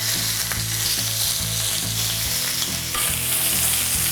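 A steak sears on a grill pan with a loud, steady sizzle and crackling fry that continues unbroken throughout, with no voices present.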